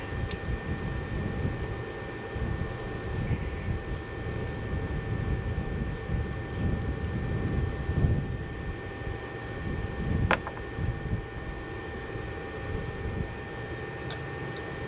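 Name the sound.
Evinrude Playmate outboard motor running under throttle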